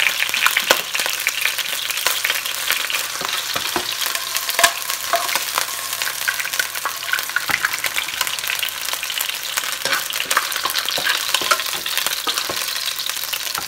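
Chicken fries in hot oil for Puerto Rican-style Chinese fried rice, giving off a loud, dense, continuous crackling sizzle with sharp pops, close up and with no talking.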